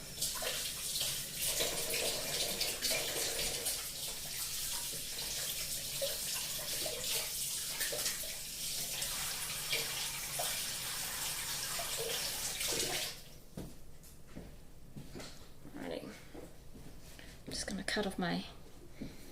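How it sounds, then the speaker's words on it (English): Tap water runs hard into a sink while sticky fingers are washed, making a steady rushing splash for about thirteen seconds before it shuts off, with whispered talk over it. "I'm just going to wash my fingers quickly because they're all sticky and gross"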